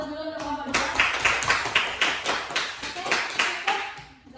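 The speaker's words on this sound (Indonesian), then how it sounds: "Aplaus dulu untuk kelompok 2." Classroom applause for a student group, a close, steady run of hand claps from a small crowd that keeps a rough rhythm for several seconds and then fades at the end.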